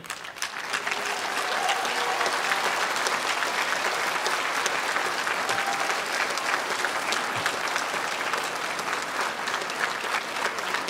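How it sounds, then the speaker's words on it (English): Loud, sustained applause from a large audience at a commencement ceremony, dense clapping that fills the whole stretch without letting up. "by your applause, let everyone know just how much you appreciate their support"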